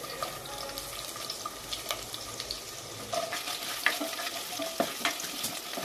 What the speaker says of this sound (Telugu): బాగా వేగిపోయింది కొబ్బరి